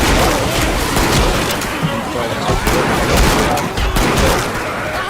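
Rapid gunfire in Left 4 Dead 2, dense overlapping shots crackling continuously throughout, with players talking over the shooting.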